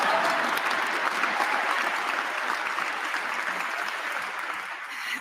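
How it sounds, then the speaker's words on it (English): A large audience at the Grammy Awards ceremony claps in a broad, sustained roar of applause, even and full throughout before easing slightly at the close, with no voice over it. "You can clap for that."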